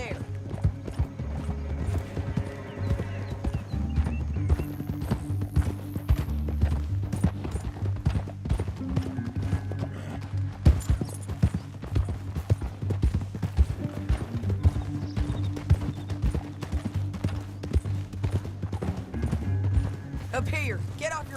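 Horses galloping in the Red Dead Redemption 2 video game: steady clip-clop hoofbeats run throughout under a game music bed, with an occasional whinny and voices talking over it.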